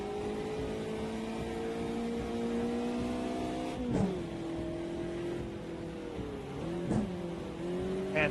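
A race car engine in a sim racing video game drones at steady pitch, with brief revving dips and a rough, grinding transmission during gear changes; no one talks.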